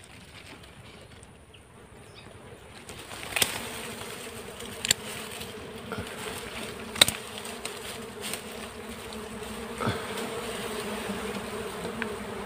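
Dwarf honey bees hum steadily around their nest outdoors, a continuous close buzz that swells after a few seconds, with scattered sharp knocks and rustles and no speech.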